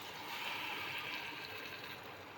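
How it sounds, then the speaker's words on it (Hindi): Water poured into a cooking pot during home preparation of a vegetable curry, a steady broadband splashing rush of moderate loudness, continuous for a couple of seconds with no talk over it. "अब हम उसमें पानी डाल देंगे।"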